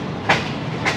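The Shalimar Express runs on the rails with a continuous rumble and two quick clicks of wheels over rail joints.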